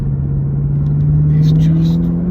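A manual V8 engine in an HSV R8 Clubsport, heard from inside while driving as a loud, steady low drone whose pitch rises slightly as it revs, with faint talk over it.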